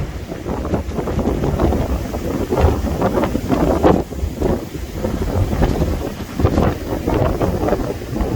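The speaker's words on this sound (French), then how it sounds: "C'était juste pour te montrer que quand ça souffle, ça souffle" Strong gusty wind batters the microphone beside Lac de la Ganguise, a continuous loud roar that surges and dips with the gusts and has no voices.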